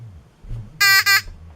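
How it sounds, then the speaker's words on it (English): Homemade fire alarm buzzer sounding when pressed: two loud, harsh electronic buzzes in quick succession with a short gap between them, standing out over quiet background. "Just put your hand on the buzzer."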